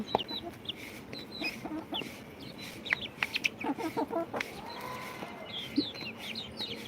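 Several native country chickens cluck and squawk in irregular bursts at close range, with a few higher chirps mixed in over a steady background hum.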